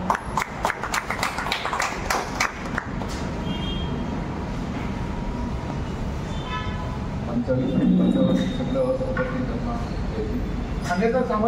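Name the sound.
audience applause for the speaker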